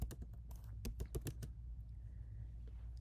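Quick burst of keystrokes on a computer keyboard, close and crisp, a fast cluster of clicks in the first half that then stops, leaving a quiet room hum.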